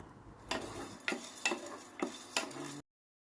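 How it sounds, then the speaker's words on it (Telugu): Chana dal and fenugreek seeds dry-roast in a pan over a medium flame, with about five quick, rattling stir strokes at a steady pace, then the sound stops abruptly. "2 టేబుల్ స్పూన్స్ పచ్చిశనగపప్పుని వేసుకుని మీడియం ఫ్లేమ్లో కాసేపు వేయించుకోవాలి"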